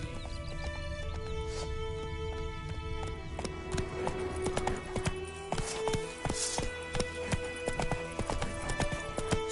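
Hooves of the horse Roach clip-clop steadily at a brisk gallop through The Witcher 3 video game, accompanied by occasional whinnies over a dense layer of game music and ambience.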